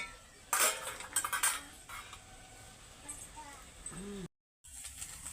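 Metal clinks and scrapes ring out as a lid comes off a pan and a vegetable curry with stalks, eggplant, peas and pumpkin is stirred; the bright clatter comes in short bursts, with a voice talking quietly.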